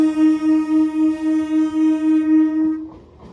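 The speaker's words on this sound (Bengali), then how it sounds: "এদিক দিয়ে ঢুকছে কি বলবে বলো তো ট্রেনটা ঢুকছে" A train horn blares in one long, steady note for nearly three seconds as a train draws in, then cuts off and leaves a low rumble.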